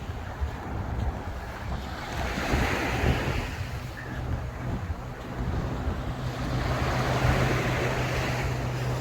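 Waves breaking on a nearly deserted winter beach at Oeiras on the Lisbon coast, a continuous wash of surf swelling and receding, with wind buffeting the microphone throughout.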